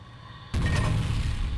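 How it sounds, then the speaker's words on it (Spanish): A grenade explosion in the F.E.A.R. video game bursts suddenly after a quiet moment, a single loud boom followed by a sustained rumbling roar. "Joder, están colando aquí de granada que no veas."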